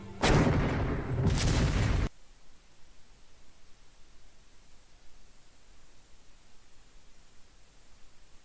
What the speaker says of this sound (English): With this giant cannon.